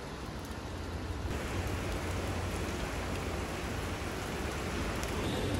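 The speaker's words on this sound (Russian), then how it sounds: "Это был холодный тропический дождь." Steady, dense cold tropical rain pours down continuously on an island, a broad hiss of drops on surfaces with no voices, loud and close throughout.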